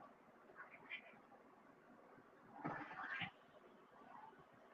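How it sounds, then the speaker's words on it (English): Cats fighting nearby, with yowling caterwauls and meows rising in a loud, harsh burst in the middle after quieter scattered cries, over a low background hum. "Cat fight."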